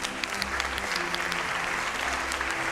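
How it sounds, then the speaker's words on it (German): Audience applause during a stage magic show, a steady moderately distant clapping from the crowd, even and unbroken over a few seconds. "Sie kriegen einen großen Applaus."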